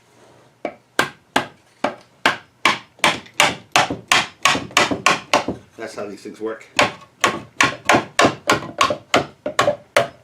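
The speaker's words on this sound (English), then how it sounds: "tap it with a hammer." A hammer taps on a wooden cherry spice box part, about two dozen sharp, closely spaced knocks in an uneven rhythm, loud and near, with a short spoken remark partway through.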